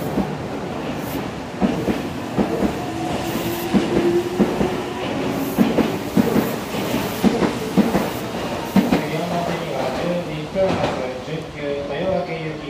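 A Meitetsu 1700-2330 series express train pulls out of Kanayama station, its wheels clicking rhythmically over rail joints as it departs, mixed with station announcements and platform ambience.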